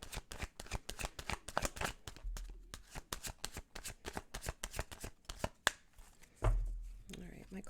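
Tarot cards are shuffled by hand in a rapid, papery riffle of many quick flicks, close and continuous across the clip, with a few soft bumps of the deck near the end.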